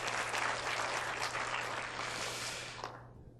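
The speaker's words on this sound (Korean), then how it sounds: "다시 한번 박수해 주십시오." Audience applause at a church staff retreat, a dense steady wash of many hands clapping loudly throughout before tapering off near the end, with a low steady hum underneath.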